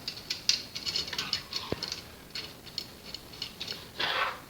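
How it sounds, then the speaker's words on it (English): An Allen key turning a bolt while a Creality CR-10 V3 3D printer is put together: steady, close ratcheting clicks and small mechanical ticks in quick irregular runs, ending in a brief rustle. "Use the Allen key, screw this in place."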